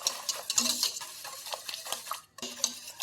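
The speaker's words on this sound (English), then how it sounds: "You've got to keep whisking" A cinnamon-spiced butterbeer mixture is whisked in a bowl with quick, irregular clinks and scrapes, close and fairly quiet, pausing briefly near the end before starting again, and no one speaks.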